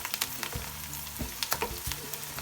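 Onions fry in a pan for chicken karahi. A soft sizzle runs under intermittent stirring knocks and scrapes, close but fairly quiet.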